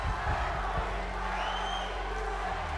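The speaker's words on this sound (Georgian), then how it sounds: "ხალხის ოვაციები მატულობს" Audience applause and cheering swell steadily through a talent show semi-final hall, a dense continuous crowd roar with scattered whoops, loud and unbroken for a few seconds.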